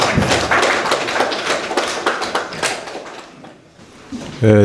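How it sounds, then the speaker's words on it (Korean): Lecture audience at a Confucian academy in Gyeongnam applauding to welcome a professor, a dense burst of close clapping that thins out and fades, then a brief louder thump and murmur at the end. "박수로 맞이해 주시기 바랍니다."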